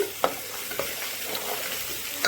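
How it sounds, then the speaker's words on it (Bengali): Fish sizzling and crackling in hot oil in a pan, a constant close hiss broken by a few sharp pops and spatters. "ওইদিকে মাছটাও ভাজা হচ্ছে"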